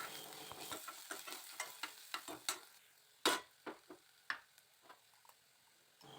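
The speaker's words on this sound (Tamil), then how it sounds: "கடுகு போட்டுட்டு வெங்காயமும் கருவேப்பிலையும் போட்டு நல்லா வதக்கி எடுத்துக்கலாம்" Onions, mustard seeds and curry leaves sautéing with a little salt in coconut oil, a faint sizzle under repeated scraping stirs of a spoon in the pan, each stroke a short distinct sweep, with no talk.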